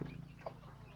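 A hen gives a brief, soft cluck in a quiet farmyard, faint and close.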